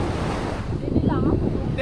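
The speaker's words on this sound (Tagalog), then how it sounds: "Lakas ng hangin eh." Strong wind buffets the microphone near a lagoon, a loud continuous rumbling roar with a faint surf-like wash, lasting under two seconds with a voice briefly heard over it.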